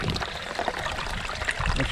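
Water trickling and babbling down a garden water feature stream dammed with waterfall foam, a close, continuous splashy pour with small gurgles, loud and without talk.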